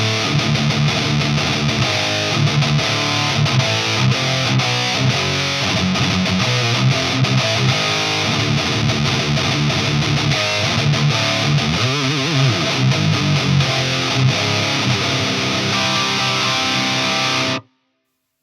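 A heavily distorted metal electric guitar plays through a Fender Tone Master Pro with effects into a speaker cabinet, loud and continuous for about seventeen seconds before cutting off abruptly.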